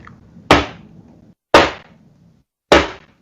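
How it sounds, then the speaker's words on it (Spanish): A teacher's ruler strikes a board three times, each a sharp, loud, close crack that dies away quickly, spaced about a second apart, with quiet between. "golpeaba la pizarra o alguna superficie"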